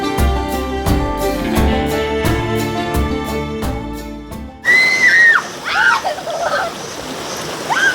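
Music plays at first, then children shout and splash loudly and close by in a village swimming pool fed by a natural spring in the hills, with scattered squeals over the churning water.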